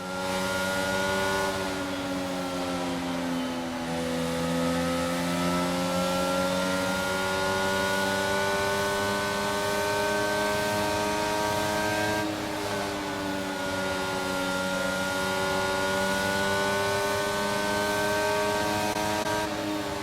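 An F1 car's engine revs continuously on the starting grid in the racing video game F1 22, a loud, sustained, high-pitched whine with steady harmonics that dips slightly and climbs again, with no talking over it.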